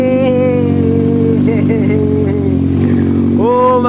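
A Yamaha R1 motorcycle engine fitted with a CDI conversion runs close by, a steady loud idle with a strong low hum that dips and then revs up sharply near the end.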